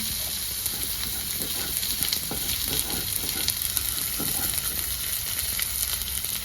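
Chopped onions frying in hot oil, a dense continuous sizzle with crackling and occasional stirring scrapes, close and steady throughout.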